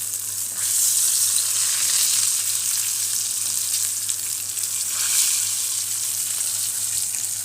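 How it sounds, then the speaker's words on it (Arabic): Fish frying in a pan and turning crisp makes a loud, steady hiss of sizzling oil that runs without a break, with no voices. "بص السمك يا جماعه، سامعين القرمشه؟"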